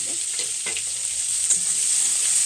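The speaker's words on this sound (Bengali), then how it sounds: "ততক্ষণে পেঁয়াজটা ভাজা হোক" Onions fry in hot oil with bay leaf, dried red chili and cumin, a steady close hiss of sizzling with a few soft stirring scrapes, no voices.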